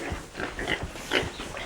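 Pigs on a farm grunting in a close, steady run of short low snorts and oinks, with occasional louder squeals rising above the chorus and no talking.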